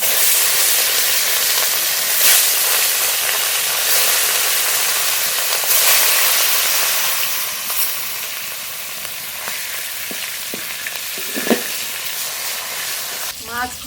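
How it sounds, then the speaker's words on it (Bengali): Oil sizzles and hisses loudly and continuously as rohu fish fries in a pan, with a few sharp pops and clatters near the end. "বাকি মাছগুলো ভেজে নেবো"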